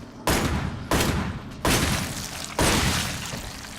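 Four heavy gunshots from the Resident Evil 8 video game DLC, each a loud, sharp blast with a long decaying tail, fired at a slow, uneven pace with no talk.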